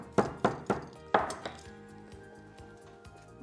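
Black cardamom pods being pounded for a home remedy, about six sharp, close thuds in an uneven rhythm that then fade into faint clinking and low background hum.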